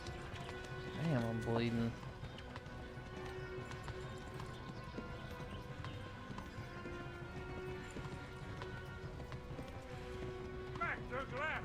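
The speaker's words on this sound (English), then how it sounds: "Horse riding feels good." A horse's hooves clip-clop steadily while it is ridden in a video game, an even trotting rhythm close and continuous throughout, with a brief neigh near the start and someone talking over it.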